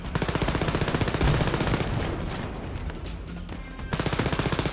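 Rapid machine-gun fire with dense overlapping shots from a Wolfenstein: Youngblood firefight against Nazi soldiers, loud and sustained through nearly five seconds, briefly easing mid-burst before resuming at full intensity.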